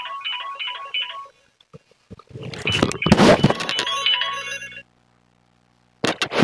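A phone rings in repeated short electronic trills, then loud clattering thumps and handling noise, with a final burst at the end.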